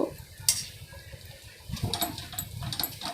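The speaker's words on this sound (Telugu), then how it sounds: "స్టవ్ సిమ్మర్లోనే ఉంచి రైస్ని అలా కలుపుతూ ఉండాలి" Tomato rice being stirred in a pan over a stove kept at a simmer, with soft scraping and clinks of a spoon against the pan, a sharp metallic tap near the start, and a low bubbling sizzle underneath.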